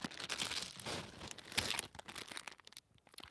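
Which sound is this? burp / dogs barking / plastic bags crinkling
plastic bags crinkling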